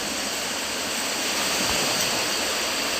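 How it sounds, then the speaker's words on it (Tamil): Calm night sea at Kanyakumari gives a constant, close, full rushing wash of water without distinct breaks, loud and unbroken throughout. "அமைதியாக இருக்குது கடல்"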